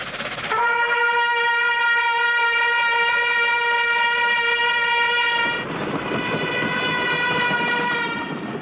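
Passing train sounding its horn, a loud sustained multi-tone blast whose pitch drops abruptly midway as it goes by, followed by rumbling rail noise.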